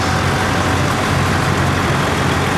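A tractor engine runs steadily at the Red Power Round Up farm show, a loud, continuous low rumble with no breaks across the whole stretch.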